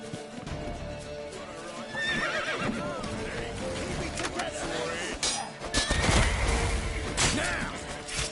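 Horse whinnying in The Witcher 3 on PS5, several wavering neighs over a dense game mix of hoofbeats, clattering and crashes, with shouting voices throughout.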